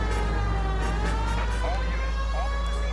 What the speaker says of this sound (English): Yeah, this calls for the sirens.